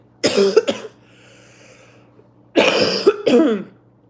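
Two loud, close harsh coughing fits separated by a quiet pause, each a couple of rough bursts.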